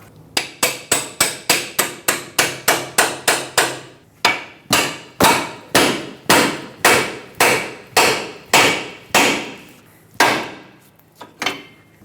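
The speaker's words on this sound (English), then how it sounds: "I'm using a pickle fork to separate it." Sharp metallic hammer blows drive a pickle fork to separate a ball joint on a 2012-2017 Hyundai Accent front lower control arm, about twenty close, loud strikes in a quick steady rhythm with a short pause midway.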